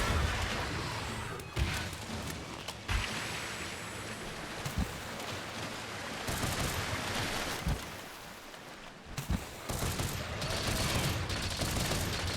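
A Light Bowgun fires Rapid Pierce ammo against Mizutsune in Monster Hunter, with repeated sharp bursts and impacts popping out over a dense, continuous wash of battle noise.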